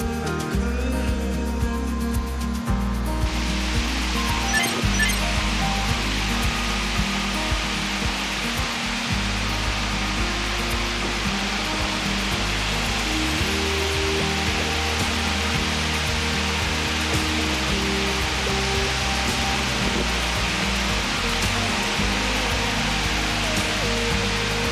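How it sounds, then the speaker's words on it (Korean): Hongje Waterfall in Seodaemun, Seoul, pours down hard in a steady, loud, close roar of rushing water that fills the whole stretch without a break, and no voices can be heard. "많은 이들이 찾는 이유는 바로 세차게 떨어지는 폭포수가 매력적인 서대문"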